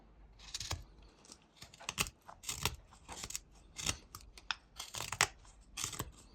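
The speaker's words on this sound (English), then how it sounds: "Then we can make a V cut over here between the head and the neck." A small knife shaves and notches wood while whittling a simple reindeer, cutting a V groove between head and neck: a string of short, crisp scraping cuts in uneven bursts, close up, with no talking.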